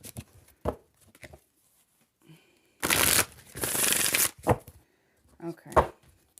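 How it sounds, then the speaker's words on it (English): A large, oversized deck of cards is shuffled in two dense, riffling bursts that sound close and crisp. Quiet talking and handling noises come before and after. "This deck is really big. It's hard to shuffle."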